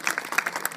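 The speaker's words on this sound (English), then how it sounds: "Give him a round of applause." Crowd applause at a sea lion show after a caught fish, a short burst of scattered clapping from the audience, moderately loud and close.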